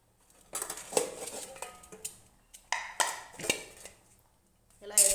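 Metal cookware clanks as a cooking pot of rice comes off a home kitchen stove and a kadai is set down: scattered sharp knocks and scrapes, some close and loud, separated by short quiet gaps.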